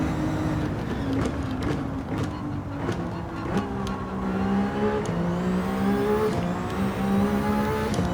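A Ferrari VGT race car driven in a virtual-reality racing game, its engine droning steadily and loudly with rising and falling revs through gear changes across the whole stretch, no talking.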